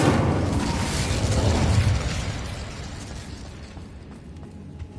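An Incendio fire spell in Hogwarts Legacy bursts out as a loud whooshing blast of flame that roars for about two seconds, then trails off into a fading rumbling crackle.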